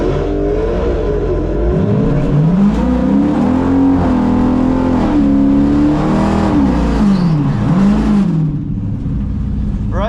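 A Legion of Demons LegendSIX drag racing car at Texas Motorplex holds a loud, sustained burnout, engine note wavering and climbing over a constant roar before cutting off near the end.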